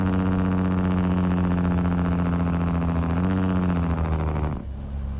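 A truck engine in American Truck Simulator drones steadily and loudly through long exhaust pipes, holding a low rumble with a whining tone above it that rises partway through, then drops off abruptly near the end.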